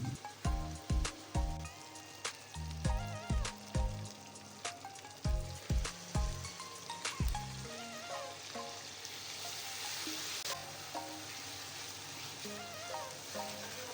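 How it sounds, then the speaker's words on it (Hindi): Chopped onion, ginger and garlic masala sizzling in a pan for biryani, a steady crackling fry with clattering knocks of a spoon stirring against the pan early on, no talking. "इसको भी हम प्याज के साथ ही भून लेंगे"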